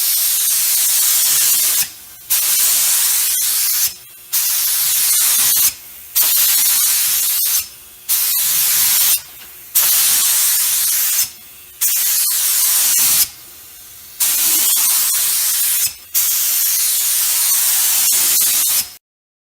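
A spray gun lays paint on a car while repairing peeling clear coat, in about eight loud hissing bursts of a second or two each, split by brief silent gaps, with no voices.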